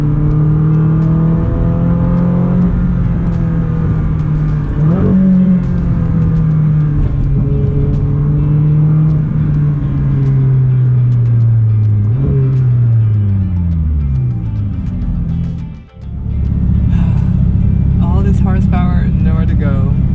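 A naturally aspirated Ferrari 458 Speciale engine revs loudly up close, its pitch wavering and climbing, then sagging through a short gap before returning to a strong, high-revving wail.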